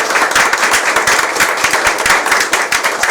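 Audience applause at a youth policy presentation event, a dense, loud burst of many hands clapping steadily for the whole stretch.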